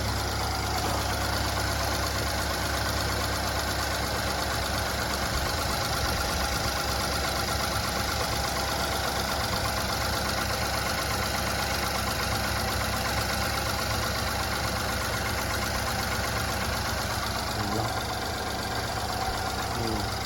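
A car engine idles steadily for a long stretch after starting on a snowy Canadian day, a loud, continuous mid-to-low rumble with a faint uneven knock and no talking over it.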